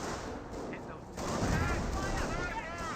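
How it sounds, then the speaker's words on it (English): Panzer Grenadiers fire rifles from a held position in a WWII strategy game, producing a continuous rattle of distant gunfire and scattered shots layered over battlefield rumble. "Panzer Grenadiers are still firing away from a good position."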